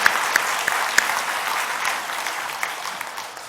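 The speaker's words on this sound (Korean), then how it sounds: "이왕이면 우리 선생님들께 박수 좀 한번 쳐주시기 바랍니다" A church congregation at a combined Christmas service with Sunday school children applauds its church school teachers, steady even clapping with a few sharp claps standing out near the start and tapering slightly at the close.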